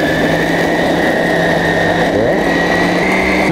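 Electric food chopper running dry as a mill, its motor whirring in a loud, steady, continuous drone from start to finish with no pauses.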